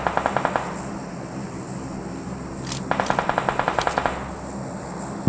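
Automatic gunfire in the BGMI battle royale video game, with a short rapid burst at the start and a longer steady burst of evenly spaced shots midway, loud over a constant background hum, with no talking.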